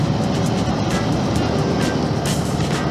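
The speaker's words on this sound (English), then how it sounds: "we've got some big military cargo plane over there" A large military cargo plane flies slowly overhead near a forest, its broad, steady engine roar filling the scene continuously without breaks, loud and constant throughout with no voices.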